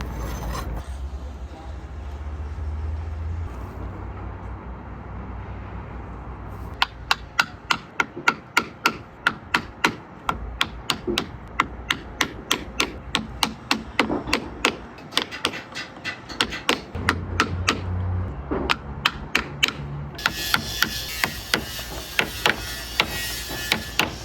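Repeated sharp whacks of a Purple Heart wood burnishing tool against sheet metal edges, striking in a steady rapid rhythm, loud and close, with a quieter stretch before the blows begin.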